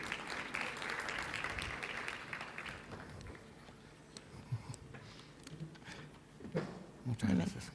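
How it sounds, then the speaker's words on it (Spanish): Audience applause for a speaker at a lecture on public-private partnerships, a burst of clapping that fades after about three seconds, followed by a few scattered claps, light shuffling and a voice starting to talk. "les pido un fuerte aplauso para él"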